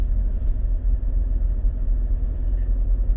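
A car rolls along a dusty dirt road near Tanza, a steady low rumble of engine and tyres on rough ground heard from inside the vehicle, loud and continuous, with no talking.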